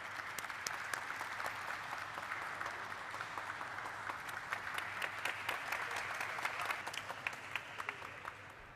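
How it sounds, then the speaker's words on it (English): Steady, moderately distant applause from an audience at the JNK India Limited listing ceremony, a dense patter of many hands with a few sharper individual claps, continuing without pause throughout. "Let us have a resounding of claps to mark this occasion"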